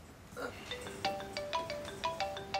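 A mobile phone rings in a short, repeating pattern of bright electronic tones, fairly close and clear, against a quiet indoor background with no talk over it.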